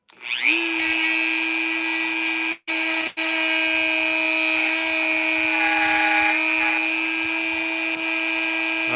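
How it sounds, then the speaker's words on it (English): A Dremel rotary tool whines at a steady high pitch as it grinds, cutting out briefly twice before resuming, loud and close with no talk. "Time to Dremel."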